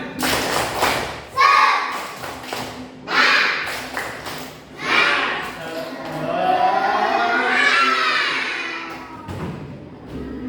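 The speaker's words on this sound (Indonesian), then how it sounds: "Tepuk semangat." A primary school class doing the tepuk semangat spirit clap, with rhythmic bursts of clapping and thumping mixed with children's chanting and shouting, loud and close, in several rounds.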